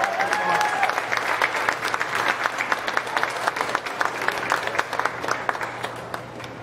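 Applause for the young exhibitors at a county fair sheep show: a crowd claps in a brisk, steady patter under a low hum, moderately loud, with individual claps standing out.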